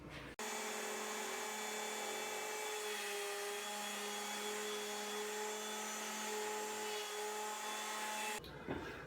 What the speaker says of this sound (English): I'm going to go ahead and joint them on the joiner to make the edges square and smooth